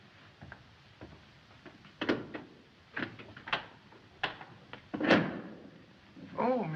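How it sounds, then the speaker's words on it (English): A door is opened in an old mystery film scene: a run of close clicks, latch rattles and soft knocks spread over several seconds, with faint voices murmuring underneath. "Max, open the door"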